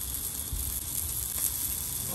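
Steady, close sizzling of redfish on the half shell cooking on a grill, a continuous hiss with some low rumble underneath.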